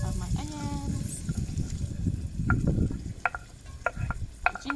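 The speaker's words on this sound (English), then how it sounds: "my coconut oil in my Dutch oven is lovely and hot. So now I can just put in my base of my onions" Onions hitting hot coconut oil in a Dutch oven over an outdoor campfire, giving a steady, moderately loud hiss and crackle with a few sharper ticks and clinks near the end.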